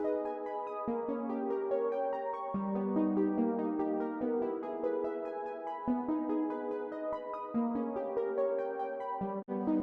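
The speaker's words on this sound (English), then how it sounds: "what I did was to add this verb to it." Sustained plucked harp sample tones ring out in slow chords, washed in long reverb that blurs each note into the next; no voices.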